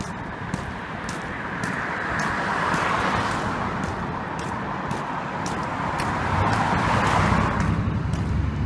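Cars pass on a road late on a Wednesday night as a rising and falling whoosh of tyres and engines swells twice and fades, moderately near, with some wind buffeting the microphone.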